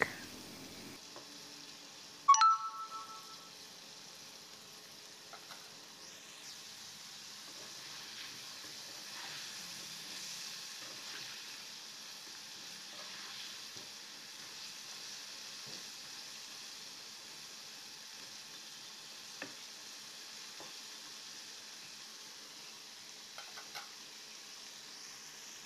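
Battered chicken fries in hot oil in a home kitchen, giving a steady, soft sizzle and hiss throughout, with a brief louder clatter near the start and a few faint clicks later.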